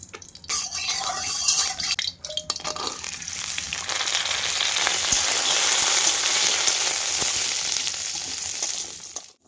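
Oil is poured into a hot wok for cooking shrimp with kohlrabi, potato and lentil dumplings, first dripping and then turning into a loud, steady sizzle and frying hiss, with a voice talking over it.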